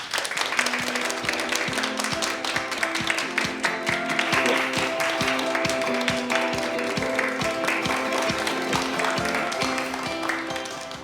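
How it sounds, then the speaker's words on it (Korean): An audience welcomes a guest professor, a computer science specialist, with a long round of applause that stays steady and fairly loud for about eleven seconds, mixed with sustained tonal music underneath. "저희 정윤행 교수님을 큰 박수로 환영하겠습니다"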